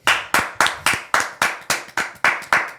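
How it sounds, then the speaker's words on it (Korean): A small group of hosts on a Korean football talk show clapping their hands in unison, about ten crisp, evenly spaced claps, close and loud with no talking. "그래도 한번 박수 한번 치시죠"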